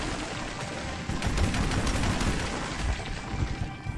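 Dense, rapid bursts of gunfire from the video game Metro 2033 crackle for nearly four seconds, loud and continuous, like an ongoing firefight with overlapping shots and no voices.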